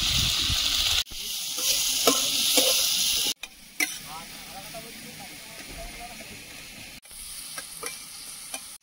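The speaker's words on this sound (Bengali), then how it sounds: "মশলাটা কষিয়ে নিয়েছি" Turmeric, cumin and chilli powder masala frying in a pan over a home stove, a steady broadband sizzle with scraping stirs, briefly cut off twice and resuming, with some speech over it.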